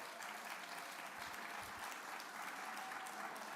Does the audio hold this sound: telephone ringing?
no